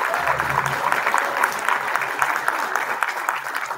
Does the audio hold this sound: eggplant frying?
no